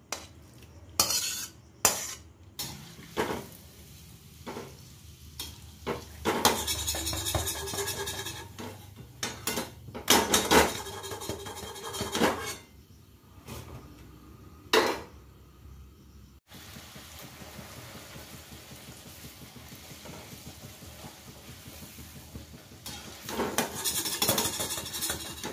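Kitchen work while preparing luchi, the Bengali flatbread: scattered clinks, scrapes and knocks of utensils and dishes in irregular clusters, some loud and close, with quieter stretches between.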